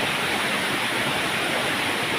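A natural waterfall in a forested valley roars with a steady, dense rush of falling water, loud and unbroken from start to finish with no voices.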